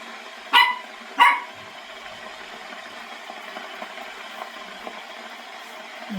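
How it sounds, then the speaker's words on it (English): A dog barks twice outdoors, two loud close-spaced barks near the start, followed by quiet ambient background with no talking. "And as you can tell from the barking, Bella is out there."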